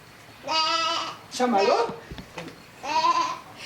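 Sheep bleating, three drawn-out wavering bleats with short gaps between them, close and clear, with a brief spoken word in between.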